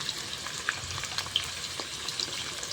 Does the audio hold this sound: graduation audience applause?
no